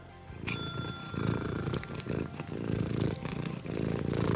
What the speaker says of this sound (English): So this cat across the room makes refrigerator noises.